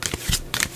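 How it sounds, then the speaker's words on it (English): Tarot cards being shuffled by hand, two or three quick close riffling bursts in under a second, with no talking. "let's draw some more cards."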